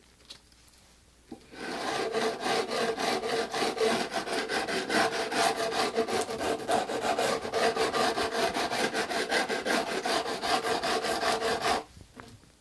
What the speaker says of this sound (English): I file the fret edges on an angle with a smaller file covered with 120 grit